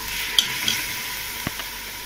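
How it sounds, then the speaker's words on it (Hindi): Chicken pieces fry in a pan for namkeen gosht, a steady soft sizzle with a few sharp clinks and scrapes of a spoon stirring through the oil, no talking. "अभी ये चिकन हम लोग फ्राई कर रहे हैं"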